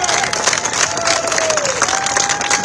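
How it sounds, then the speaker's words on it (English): Rally crowd at a Justice for J6 event breaks into steady, dense applause with scattered cheers, sustained and fairly loud throughout. "let's have a round of applause for those who went to the prison"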